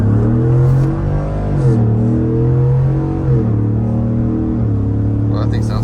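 A Ford F150 pickup with a 5.0 V8 drives in noon traffic on a partly snowy road in two-wheel drive, its loud, deep engine drone rising and falling through several gear shifts.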